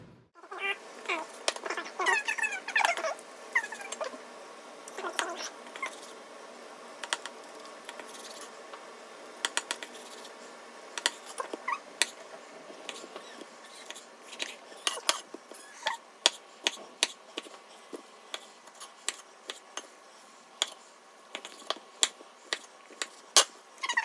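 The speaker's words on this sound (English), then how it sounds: "so we cut these up into inch and a half cubes" A smoked chuck roast is sliced into inch-and-a-half cubes on a board, with a run of sharp knife taps and clicks that grow more frequent and distinct toward the end, close and fairly quiet.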